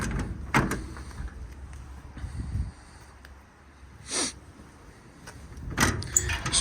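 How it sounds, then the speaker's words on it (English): Storage compartment doors on a 2023 Ford F550 V10 crane truck with an IMT 3816 crane shut one after another, giving several sharp, close latching thuds and clicks separated by quieter gaps. "So all these doors close, latch, lock, and seal as they should."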